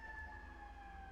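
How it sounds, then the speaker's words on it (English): Outside, an ambulance siren holds two steady tones, moderately loud and continuous over low traffic rumble, with no one speaking. "this ambulance is really loud."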